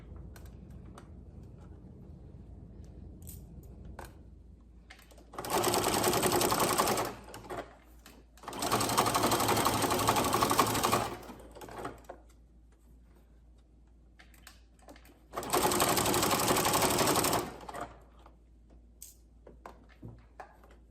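A sewing machine stitches a wrapped binding in three loud, steady bursts of rapid whirring, about two seconds each, separated by quieter pauses with faint handling sounds.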